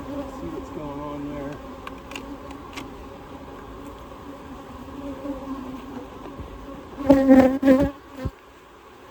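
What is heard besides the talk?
honey bees buzzing during a beehive inspection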